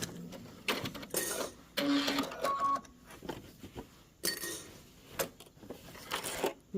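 A sewing machine sews up a garment pocket in short, choppy bursts with clicks and pauses between runs, heard close with no talking.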